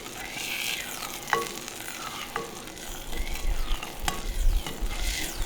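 A spoon stirs cornstarch slurry into a sauce in a pan, producing scraping strokes and sharp clinks against the pan over a soft continuous sizzle.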